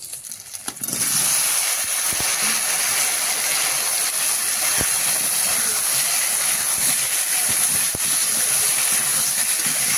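Potatoes drop into a pan of fried onions and burst into a loud, continuous hissing sizzle that stays strong and even to the end.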